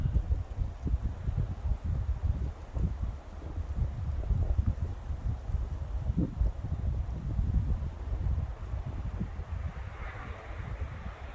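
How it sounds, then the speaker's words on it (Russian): Wind rushes through the crowns of a pine forest beside an icy lake in Norway. It is a steady, soft, broad roar that fills the scene evenly without pauses. "и ветер в кронах."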